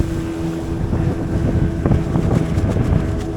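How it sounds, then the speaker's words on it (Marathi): Sea waves surge and churn around a small fishing boat on a prawn-fishing trip, a continuous, close, wind-buffeted rush of water with low rumbling and a few sharper splashes toward the end. "पाणी होडी इतकी लाटा उसळत असत"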